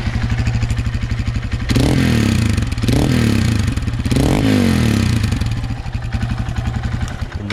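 A Hero XPulse motorcycle with a CM titanium full-system aftermarket exhaust idles loudly with a deep, throaty, uneven exhaust burble, punctuated by three sharp throttle blips that rise and fall.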